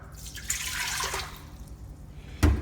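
Water splashes and gurgles into an Instant Pot for a couple of seconds, ending with a sharper splash and thud.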